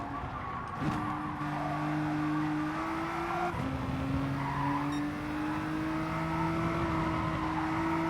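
Race cars in Gran Turismo Sport during a BTCC touring car round hold a steady engine drone, with a clear gear-change shift in pitch partway through and engines climbing again under constant road noise, no voices.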